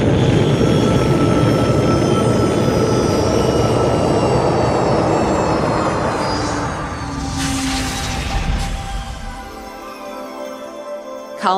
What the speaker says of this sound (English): Colonists watch spaceships landing and taking off and enjoy watching the Earth.